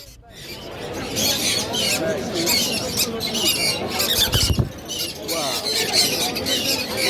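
A busy bird market where cockatiels, cockatoos, macaws, Amazon parrots, lovebirds and budgerigars are sold fills the air with dense, continuous squawks and chirps, close and loud, while people talk in the crowd underneath.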